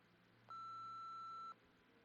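A single steady electronic beep lasting about a second plays in a video game as a voicemail downloads, clear and alone over a faint background hum.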